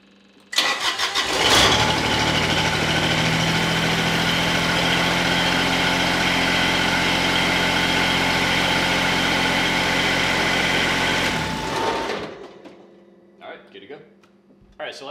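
A Kubota BX1800 compact tractor's diesel engine cranks and catches, then runs at a steady, loud idle for about ten seconds before shutting down, followed by a few faint clunks.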